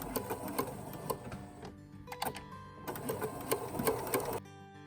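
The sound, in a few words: sewing machine back stitching a tee shirt dress seam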